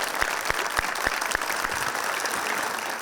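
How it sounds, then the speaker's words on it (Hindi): A studio audience claps for a few seconds during a Pakistani comedy talk show, the applause dense and steady with a few sharp individual claps standing out near the start. "तालियां बजाइए"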